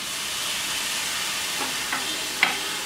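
Sugar and milk cook in a pan with a steady hiss and sizzle, and a few soft scraping stirs come through. Diwali sweets are being prepared, and no one speaks.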